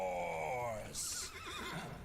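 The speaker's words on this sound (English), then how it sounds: "Horse." Horse whinny rising and falling for under a second, then softer breathy snorts trailing off, fairly close and clear.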